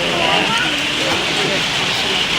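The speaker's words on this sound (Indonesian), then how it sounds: "Palembang lagi hujan sore ini" Steady afternoon rain falls in Palembang as a dense, even hiss of drops on surfaces, continuous and fairly loud with no break.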